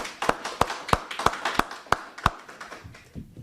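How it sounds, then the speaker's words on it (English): Rhythmic claps at a school awards ceremony, about nine evenly spaced sharp claps that sound like a small group or a single pair of hands, then fading into quiet shuffling. "Let's give them an applause."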